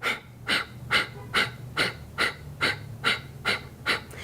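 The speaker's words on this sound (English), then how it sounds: "you're going to do little exhales through the nose" Kapalabhati yoga breathing: about ten short, forceful nasal exhales in a steady, even rhythm, close and clear with no talking.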